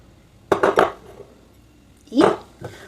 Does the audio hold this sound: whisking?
yes